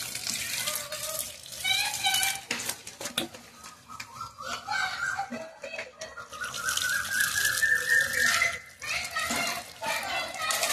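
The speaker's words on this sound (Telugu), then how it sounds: "ఆ మొక్కలకైతే వాటర్ పోస్తున్నాను" Water is poured by hand onto newly planted seedlings, a splashing, trickling stream that comes and goes in bursts, with children's voices and chatter throughout.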